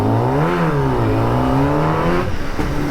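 A Kawasaki ZX10R sport motorcycle engine is revved hard up close, its loud high-pitched wail rising and falling in pitch with throttle blips and a brief dip near the end.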